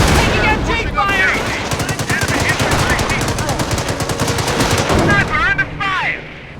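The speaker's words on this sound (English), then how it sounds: "Taking rifle fire! Taking MG fire!" Sustained machine gun and rifle fire in the World War II strategy game Company of Heroes, set in a Carentan counterattack, loud and continuous with rapid rattling bursts while soldier voices shout over it.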